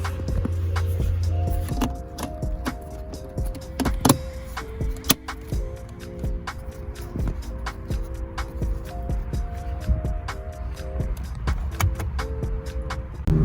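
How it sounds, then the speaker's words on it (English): A Volkswagen MK7 GTI on a test drive, its steady engine drone and road rumble continuing throughout with occasional clicks and knocks from the cabin, close and moderately loud. "We're gonna go for the test drive."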